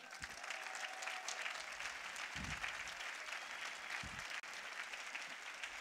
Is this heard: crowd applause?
yes